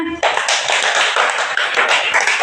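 Dense, steady clapping from a group of children in a classroom, loud and close, filling the clip right after a brief moment of a teacher's voice.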